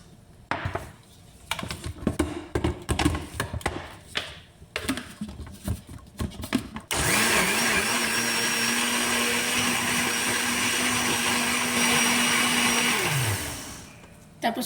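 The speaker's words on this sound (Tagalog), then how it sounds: "ganyan naka-blender na" A kitchen blender whirs loudly and steadily for several seconds blending milk and malunggay juice, preceded by clattering and handling noises, then spins down abruptly.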